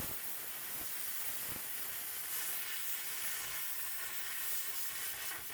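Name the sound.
plasma cutter cutting trailer metal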